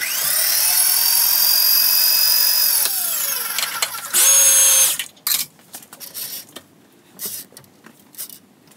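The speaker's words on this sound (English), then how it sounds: "I have a 5/8 diameter hole saw" A loud, high-pitched whine of a drill press cutting with a 5/8-inch hole saw runs steadily, then cuts off, leaving faint clicks and handling noises.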